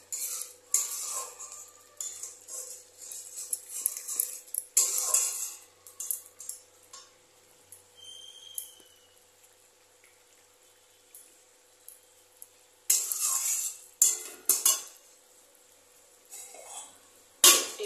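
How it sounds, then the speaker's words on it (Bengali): Prawns with salt and turmeric being stirred in a pan: intermittent metallic scrapes and clinks of a utensil in bursts separated by quiet pauses, close by and moderately loud. "এটাকে একটু ভালো করে নাড়িয়ে নেব"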